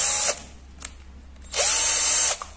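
A Hujia 42V cordless drill with a 13 mm chuck whirs loudly in two short spinning bursts, separated by a pause with faint clicks.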